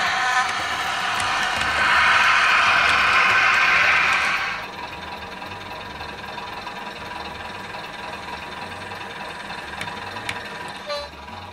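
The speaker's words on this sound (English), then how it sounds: "This is my Backman Deltic 55004, Queen's Own Highlanders. Again, fitted with factory sound." A Bachmann Deltic 55004 model locomotive plays its factory-fitted sound, a diesel rumble that swells into a louder roar for a few seconds, then settles into a quieter idle with faint clicks.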